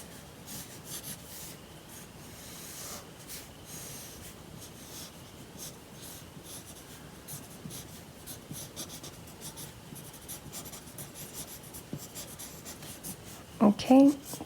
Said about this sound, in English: you could go ahead and draw the rest of the body